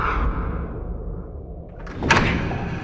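Heavy stone crypt doors rumble shut with a low grinding drone, then a single solid thump as the mechanism locks, close and loud.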